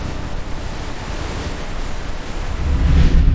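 Stormy sea with wind and rough waves, a continuous broad roar of surf and gusts that swells louder toward the end, with no voices.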